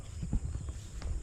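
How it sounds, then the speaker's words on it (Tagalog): A horse at a farm shifts its hooves with soft clip-clop steps and light shuffling, nearby and with no talking. "Nagpakain na po tayo sa kabayo."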